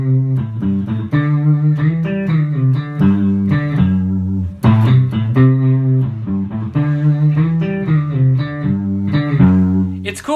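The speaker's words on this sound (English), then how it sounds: "So our last one, this is our classic rock riff here." Electric guitar plays a classic rock riff, loud and up close, with steady rhythmic chord stabs and single-note runs continuing throughout without any voice.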